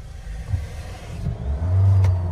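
A modified Mahindra Scorpio and Mahindra Thar idle at a drag race start, with engine rumble and short blips building into a sustained loud rev near the end.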